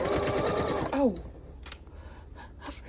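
A home sewing machine runs at its fastest speed, a dense whirring burst that stops abruptly after about a second, followed by a quick breath and faint handling noises.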